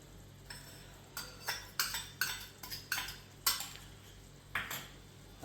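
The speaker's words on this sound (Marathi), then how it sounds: "2 ते 3 चमचे तूप ओतून घ्यायचं आहे" A spoon knocking against a pot while ghee goes into mutton pulao, about a dozen crisp metallic clinks and scrapes at an irregular pace, close and fairly quiet over a low steady hum.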